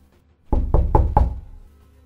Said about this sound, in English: Soon we heard knocks on the door.